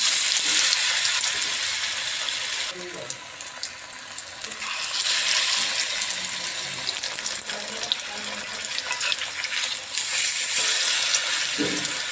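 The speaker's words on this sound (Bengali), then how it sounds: "শিমটাকে বেসনের মধ্যে কোট করে নিয়ে এবার তেলে ছেড়ে দেব" Gram-flour-coated stuffed bean pods fry in hot oil, a dense steady crackling hiss that swells and eases over several seconds, with faint clinks in the background.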